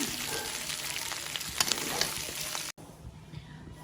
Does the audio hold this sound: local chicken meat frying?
yes